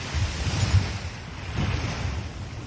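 Ocean waves washing in softly, a low rolling surge that swells and eases twice, with a faint hiss of wind over it and no voices.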